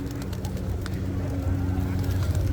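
Pigeons coo in low, repeated murmurs that run steadily through the whole stretch, close by and fairly loud over a faint outdoor background.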